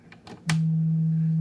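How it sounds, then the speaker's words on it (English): Steady, clean low sine-wave tone from a synthesizer oscillator, starting abruptly after a few brief clicks and holding loud and unwavering to the end. "And so there's your sine wave."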